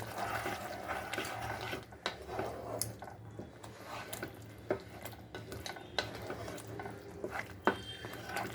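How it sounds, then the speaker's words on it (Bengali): A spoon stirs a thick spice masala for rui fish curry in a pan, with irregular scraping knocks and clicks over a soft background sizzle, close by and fairly quiet, no talking. "এখন আবার একটু নেড়ে দেবো, কারণ এটা কষতে একটু সময় লাগে"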